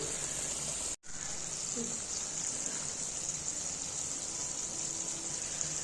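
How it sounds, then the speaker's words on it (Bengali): Prawn kofta malai curry bubbling in a pan gives a steady close simmering hiss that holds throughout, broken only by a moment of silence near the start. "পাঁচ মিনিট এইভাবে ফুটতে দেবো তো একটু কোপ্তাগুলো নরম হয়ে যাবে"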